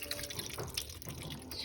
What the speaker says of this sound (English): now I'm going to pour this through a strainer